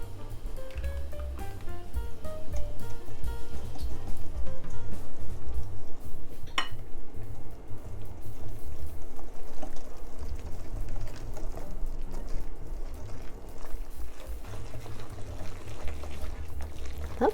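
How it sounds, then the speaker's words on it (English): Wet ingredients for black bean brownies poured into a bowl of dry ones, a thick, sloshing pour with light clinks of utensils against the bowl, close and continuous with no talk. "Pour the wet into the dry."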